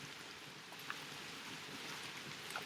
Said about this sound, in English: Sorry about all this rain, by the way. We are sitting on the porch.